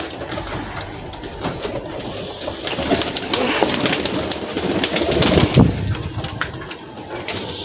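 Pigeons coo in their shed while being fed rice and wheat, a steady chorus of soft, repeated low calls close by with some rustling and shuffling, and no clear talk.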